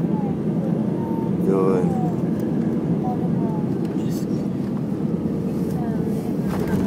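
A Philippine Airlines Airbus A320 lands at Manila, arriving from Laoag, with a steady, loud broadband roar of the jet holding throughout while a person speaks briefly nearby.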